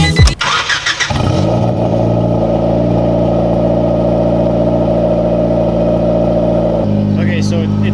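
A car engine cranks and catches with a burst of noise, then settles into a steady, loud idle with a raspy exhaust note after budget aftermarket parts were fitted, and a voice briefly breaks in near the end.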